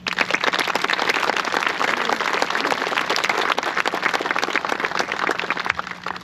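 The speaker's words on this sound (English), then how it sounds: "I like to give them a round of applause" A crowd at an outdoor opening ceremony for a travelling memorial wall breaks into loud, sustained applause, many hands clapping densely and evenly with no voice above it.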